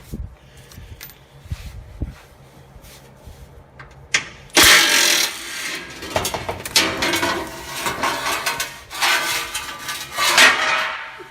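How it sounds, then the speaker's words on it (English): A bolt comes out of a Ford F-150 5.4L oil pan with light metallic clicks and scraping, then a louder clatter of the pan coming free. Rattling and handling noises follow, close and irregular. "be ready to catch it when you pull the last bolt out"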